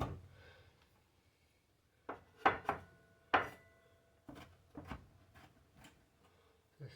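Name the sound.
knife chopping a small pepper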